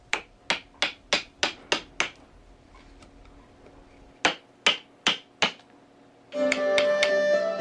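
A chisel strikes a block of hinoki cypress while a Noh mask is roughed out in a Kyoto workshop, giving crisp, sharp taps in quick runs of five or six with pauses, close and clear, ending in a brief burst of other noise.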